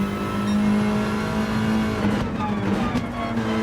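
Volkswagen Scirocco Gr.4 front-wheel-drive race car engine in Gran Turismo 7, a steady droning hum held throughout with a brief swell of revs and tire noise near the end.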